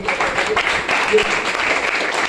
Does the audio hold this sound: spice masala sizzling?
no